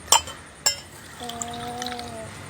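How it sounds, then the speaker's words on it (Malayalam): Two sharp glass clinks ring out, then liquid pours steadily into a glass while a malt drink is served into several glasses, close and fairly quiet. "ഇങ്ങനെ ഒഴിച്ച് കൊടുക്കാം."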